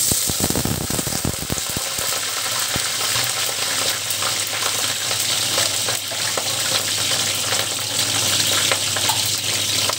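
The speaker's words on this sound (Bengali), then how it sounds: "কড়াতে আমি বেশ কিছু সাদা তেল বসিয়ে দিয়েছি, কারণ কপিগুলোকে আগে ভাজতে হবে" Cauliflower florets frying in a wok of white oil for a spiced cauliflower dish: a burst of sharp spattering pops at the start settles into a steady, loud, continuous sizzle with occasional stirring.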